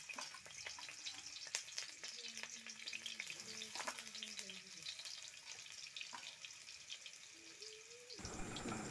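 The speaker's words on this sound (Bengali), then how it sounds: "তেলের ওপরে রসুন দিলাম" Garlic fries in oil in a wok, a faint steady sizzle with light stirring, some tonal chirps and scrapes drifting over the quiet background.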